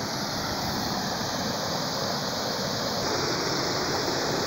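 A waterfall on a small river roars as a constant, loud broadband rush of falling water close by, unbroken and with no voices.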